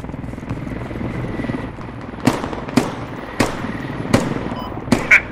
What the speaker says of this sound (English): Just dropped the gunner out of the chopper.